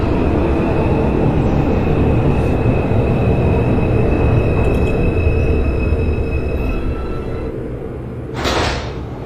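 An NYC Subway R142 train running in the OpenBVE simulator, a loud, continuous rumble of wheels and motor with steady whining tones, ending in a brief swell near the end.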